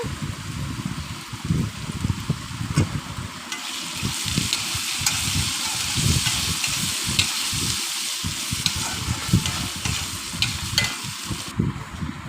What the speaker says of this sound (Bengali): এবার আমি আলু আর পেঁয়াজটা একসঙ্গে ভালো করে ভেজে নেব